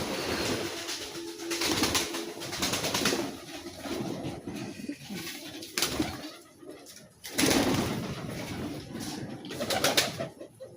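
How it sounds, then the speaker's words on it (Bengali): Pigeons cooing among other kept birds and rabbits, soft repeated coos with occasional wing flaps against a busy background of movement and noise. "অনেক কবুতর আছে।"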